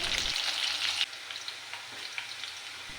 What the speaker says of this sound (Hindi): हमारा हो रहा है प्याज फ्राई